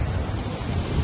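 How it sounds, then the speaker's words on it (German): Rough sea surf washes steadily onto a beach near Mela Strand, a loud, continuous broadband rush mixed with wind buffeting the microphone, and no voices. "Einfach heute mal ein bisschen bewegtes Wasser."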